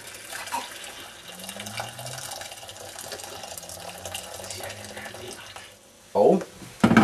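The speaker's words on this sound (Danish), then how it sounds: "Og hælder lige først vandet." Boiled water is poured from a kettle into a food pouch with a soft, steady trickle under quiet background murmur, ending in a louder splashing gush in the last second.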